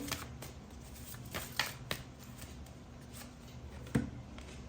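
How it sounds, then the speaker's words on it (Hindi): A tarot deck gets shuffled before a card is drawn, producing soft papery riffles and taps spread out across the moment, with a sharper card snap toward the end and no talking. "एक कार्ड और लेते हैं इसी डेक से"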